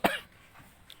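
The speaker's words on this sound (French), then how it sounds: "Excusez-moi, je vais tousser." A single sharp, close cough from an adult man, strong at the start and fading quickly into a quiet room, with a faint click near the end.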